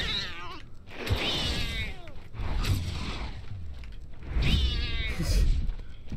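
A cat meows and yowls repeatedly in the Harry Potter and the Order of the Phoenix video game, loud and close, with drawn-out calls rising and falling over a rumbling background.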